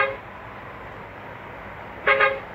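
Quiet engine ambience from a Hino RM280 bus in the Bus Simulator Indonesia game is broken near the end by one short, loud horn toot.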